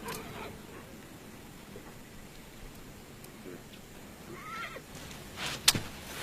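Horses at a hill farm give a faint, distant whinny, heard once with a brief wavering cry over quiet rustling background noise.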